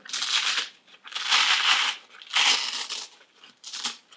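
Velcro strap on a motorcycle boot ripped open in four loud, rasping tears, each about a second long with short pauses between, close up and without speech.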